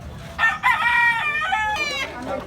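A gamecock rooster of fighting bloodline crows once, a loud close harmonic call rising and holding before trailing off, with a second strained note near the end over faint outdoor background.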